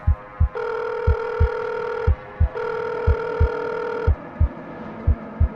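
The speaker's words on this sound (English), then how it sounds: "Sometime late that evening, she called up Ethan" A telephone rings in two long electronic bursts with a pause between, over a steady thumping heartbeat-like pulse.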